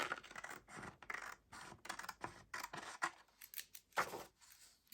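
Old fabric scissors cutting paper in a series of close, crisp snips and scratchy slicing strokes, irregular in rhythm with brief pauses between cuts.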